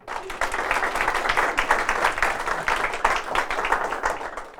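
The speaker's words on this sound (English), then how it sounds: "please give a round of applause for Kaitlyn." An audience applauds a speaker before a capstone talk on missions, with steady, full clapping that holds through the clip at moderate loudness, with no talking over it.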